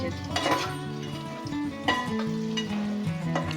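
Egg pieces frying with onions in a pan, a close sizzle under repeated scrapes and clinks of a metal utensil stirring against the pan, with no talk.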